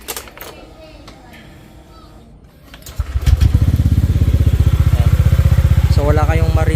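A Honda Click 125 scooter, bored to 160cc, starts after a quiet stretch and settles into a steady, close, fairly smooth idle with no ticking. A voice is heard during the quieter opening.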